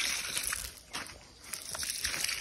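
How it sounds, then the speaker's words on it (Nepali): Water sloshing and splashing as chili plants in a dry village garden are watered, steady wet pouring with a brief lull midway, fairly close. "खुर्सानीलाई पानी खानिदिँदैछु"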